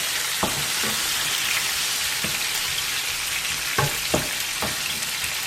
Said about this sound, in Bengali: এখন এটা একটু ভাজা হবে।